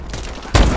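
A gunshot from the video game Call of Duty: Advanced Warfare, a single sharp, loud blast breaking in after quiet game ambience and trailing off with a short rumble.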